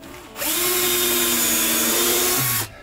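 A Bosch cordless drill whirs at full speed for about two seconds, a steady high-pitched whine that starts and stops abruptly.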